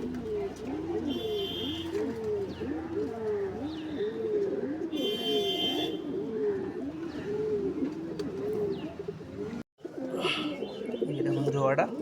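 A black male pigeon coos steadily at close range, a long regular chain of looping, bubbling calls, then a short break and a few scattered chirps and rustles.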